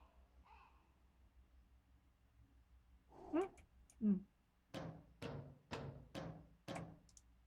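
A cat in a video game about fixing a radio tower while avoiding a monster, giving two short meows and then a run of five rhythmic yowling calls, clear and close, with faint background hum.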